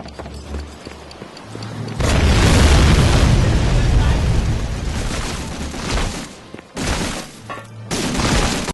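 Fuel depot explosion in Medal of Honor Frontline, a sudden loud boom erupting into a long rumbling, crackling roar that fades, followed by more sharp bursts, with speech faintly underneath.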